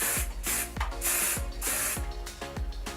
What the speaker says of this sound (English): I get my hairspray and I just spray the top of it